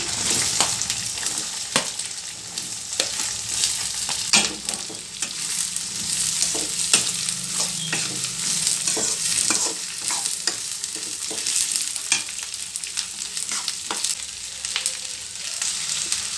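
Curry leaves and onion sizzle steadily in a hot pan for a dosa potato sagu, with frequent spoon scrapes and stirring clinks over a continuous loud frying hiss, no talking.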